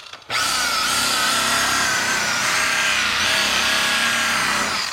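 A power polisher spins a 3M wool polishing pad against an RV headlight, starting abruptly and then holding a steady, loud, close whir with a bright high-pitched hum throughout.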